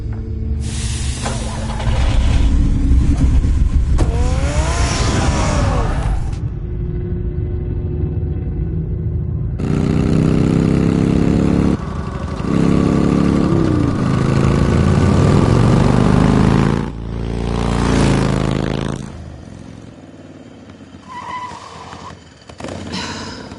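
Batman's car engine runs in a video game, with a steady mechanical drone and idling rumble mixed with other game sounds and shifting tones over about twenty seconds.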